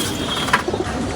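Female pigeons cooing softly in a coop, a few short low coos over a steady ambient background.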